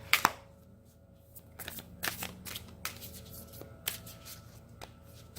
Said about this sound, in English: These cards are so hard for me to shuffle.